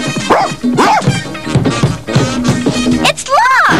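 Cartoon dog from Pound Puppies barking and yipping close up, several bright, excited barks mixed with whimpers, with a voice speaking alongside.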